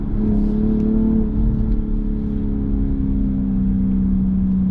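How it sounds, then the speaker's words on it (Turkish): A 2022 BMW M440i accelerates hard, its engine holding a loud, steady, close drone with a smooth rising pitch and no break or voices. "Saniyeler içinde 60 mili yani 100 kilometrenin üzerine çıkıyor araç."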